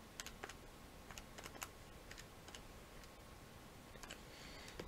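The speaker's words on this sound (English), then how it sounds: "Let's just type that in the calculator." Calculator keys tapped in short irregular bursts of crisp clicks, close and fairly quiet against a steady low background hum, with no voices.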